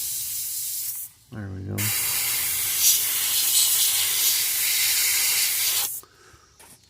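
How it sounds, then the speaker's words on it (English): An airbrush or spray can lays paint onto a largemouth bass lure pattern, giving a steady close hiss for several seconds after a brief talking voice and a short low rumble. "I didn't think it was spraying."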